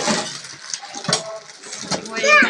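Steel kitchen utensils and plates from a household vessel set being handled, with intermittent clinks and metallic rattles mixed under people talking close by.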